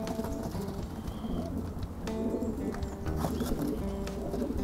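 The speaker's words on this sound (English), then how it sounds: "Really is a nice quality pigeon." Racing pigeon with good wings and body, a long-distance bird for 500–550 miles, cooing softly within a steady backdrop of loft noise, with faint shuffling and flapping around it.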